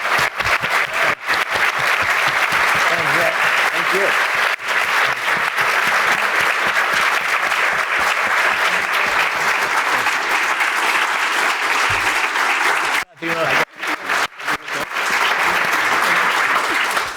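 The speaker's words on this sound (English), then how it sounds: "can we give them a round of applause?" Sustained, loud audience applause for panel speakers at a church dialogue event with Cardinal Wilton Gregory, dense clapping filling the room with a brief dip near the end before resuming.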